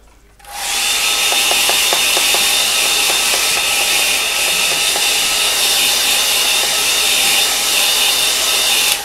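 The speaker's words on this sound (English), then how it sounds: "give it a bit of a dry with the hairdryer" A hairdryer switches on and blows with a loud, steady, high-pitched roar that holds constant for several seconds before cutting off at the end.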